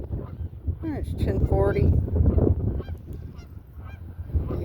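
A pair of Canada geese honk in a few sharp, nasal calls near a river's shallows, set against light wind; a person speaks briefly over them.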